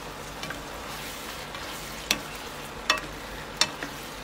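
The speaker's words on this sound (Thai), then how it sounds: "น้ำของหอยก็จะออกมานะคะเราก็ต้องผัดต่อไปให้แห้งนะคะ" Mussels stir-fried in a pan with light soy sauce, seasoning sauce and a little sugar for a basil dish: a steady close sizzle broken by three sharp clinks of a utensil against the pan.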